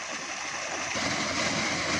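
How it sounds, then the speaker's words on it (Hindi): Cold water pours and splashes continuously from a motor-driven tubewell pump outlet in a Punjab village, a steady rushing gush that swells slightly toward the end. "एक ट्यूबवेल चल रहा हो, मोटर चल रही हो, वहाँ से आप ठंडा पानी पिए"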